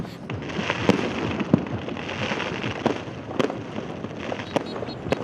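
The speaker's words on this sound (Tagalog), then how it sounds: "nangin madinoagon ang kahawaan bangod sang fireworks display" New Year fireworks display in a crowded sky: irregular sharp cracks and pops over a continuous crackling hiss, mostly distant with a few louder bangs.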